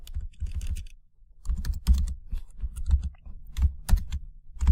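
Code is typed on a computer keyboard in quick irregular bursts of crisp key clicks, with a short pause near the start, close and without any voice.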